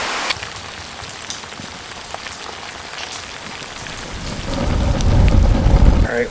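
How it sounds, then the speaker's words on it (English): Steady rain patters on a camping tent shelter during a cold storm, with scattered drips tapping the surface and a deep rolling thunder rumble building loudly toward the end. "It's cold and rainy out"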